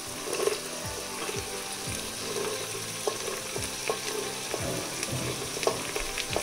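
Mixed vegetables sautéing with fried onion in a rice cooker for hot and sour veg soup, steady moderate sizzle with repeated scraping stir strokes, close and without talk.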